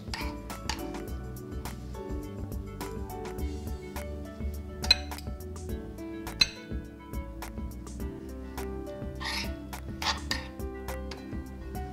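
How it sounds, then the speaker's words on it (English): Dishes and a pan clink and tap against a chopping board in a kitchen, a scatter of light, close, irregular knocks with a couple of sharper clatters over a low background hum. "Just put the pan on the chopping board."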